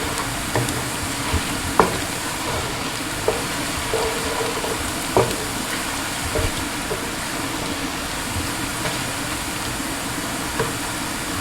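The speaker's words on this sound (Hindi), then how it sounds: "के साथ ही इसको हम फ्राई कर देंगे।" Ingredients frying in a pot for green peas matar pulao, giving a steady dense sizzle with occasional stirring clinks, close and continuous with no talk.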